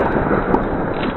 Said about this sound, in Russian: Ладно, взрыв был слишком сильный.